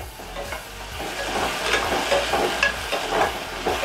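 Potatoes and tomatoes are being sautéed and stirred in a pan while moong dal khichdi is cooked, giving a steady, fairly close sizzle broken by repeated scraping strokes of the stirring spoon and no voices.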